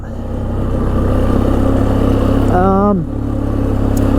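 A 1996 Polaris Sportsman 500 ATV engine runs at a steady mid-pitched drone, with a voice briefly over it partway through, then the engine note dips and carries on.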